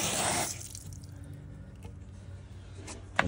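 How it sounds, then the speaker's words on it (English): Water gushes through a dishwasher drain hose being cleared of grime, a strong rush at first that drops to a softer trickling flow, ending with a small knock. "Water through the hose."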